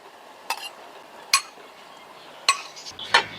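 A metal spoon clinks against a bowl while scooping Thai sweet fish sauce cooked with garlic, shallots and dried shrimp: four sharp, separate taps spread over a few seconds in a quiet kitchen.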